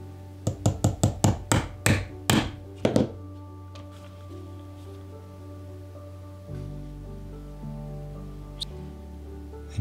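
A metal leather chisel is hammered through wallet leather in a quick run of about nine sharp, close knocks over the first three seconds, followed by quiet workshop stillness with a faint low hum.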